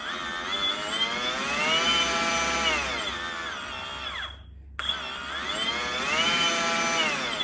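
An Echo DCS-2500 back-handled battery chainsaw whines steadily, its pitch rising and falling with variable throttle, cutting out briefly to silence before spinning back up, loud and close.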